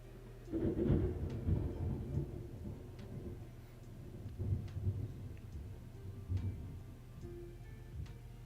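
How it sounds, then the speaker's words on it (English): Thunder rumbles outside during a storm, with low rolling swells rising and fading several times over a steady background hiss, at moderate, somewhat distant loudness. "There's a scary storm outside."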